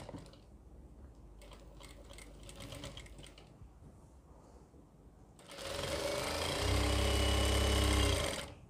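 Sewing machine stitching an Afghani salwar, at first a faint intermittent whir, then a loud steady run of rapid needle strokes lasting a few seconds before it stops.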